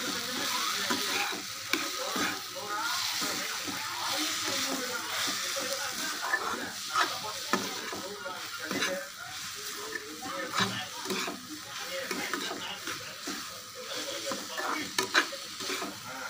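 Curry leaves and radish fry in a pan for a radish chutney, a steady close sizzle broken by scraping stirs that keep going for the whole stretch with no break.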